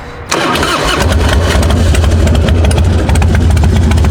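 A carbureted 2003 Harley-Davidson Fat Boy with 57,246 miles cranks briefly and fires up, then settles into a loud, close, steady rumbling idle that lasts to the end, with no talking over it.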